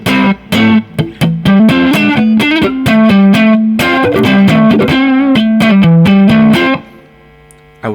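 Electric guitar through a Kemper amp profile with a chiming, sparkly top end: loud, overdriven chords and single notes strummed in a busy rhythm, ending on a ringing chord that fades.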